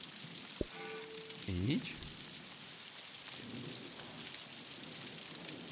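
Rain falls steadily in Season: A Letter to the Future as a soft, continuous hiss under a brief spoken word, with a short bicycle-bell-like chime and scattered clicks near the start.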